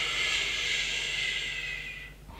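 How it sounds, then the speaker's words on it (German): A long, steady exhale through pursed lips during a breathing exercise, close and soft with an even airy hiss lasting about two seconds before fading out, with no talking. "Man kann auch die Lippenbremse ein bisschen dazu nehmen"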